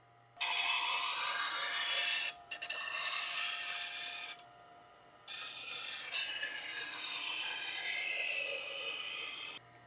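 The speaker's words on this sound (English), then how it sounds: "So we're just going to turn on the machine, and we're going to sharpen one bevel until we've raised a burr on the other side." Kitchen knife bevel ground on a Tormek T-1 sharpener, a steady close rasping hiss of steel on the wheel in long strokes, broken by two brief pauses.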